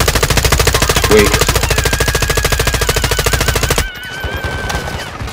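Sustained automatic assault rifle fire in the Call of Duty video game, a loud rapid rhythmic burst of shots that runs for almost four seconds before cutting off into quieter game ambience.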